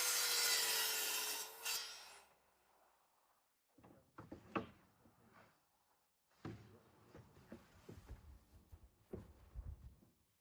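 Wooden workpiece being cut by hand with a miter saw, with bursts of rasping strokes after a few quiet seconds, close and fairly loud.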